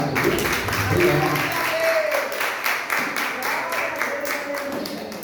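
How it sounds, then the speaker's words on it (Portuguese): A church congregation applauds visitors during a service, a moderate wash of clapping with a voice speaking briefly over it. "Salve de palmas para eles."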